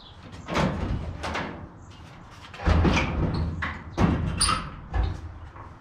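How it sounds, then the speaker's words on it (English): Several heavy thumps and clunks of truck cab doors being worked loose for removal, with metallic knocks and rattles spaced irregularly across the clip. "got to take the doors off"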